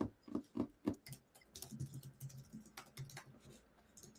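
A question typed on a computer keyboard: a quick burst of close, light key taps followed by softer irregular tapping, with no talking.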